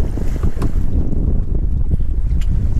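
Strong wind buffets a fishing boat at sea during deep-drop fishing, a loud, steady rumbling roar of gusts and microphone wind noise with faint water wash, continuous and close throughout.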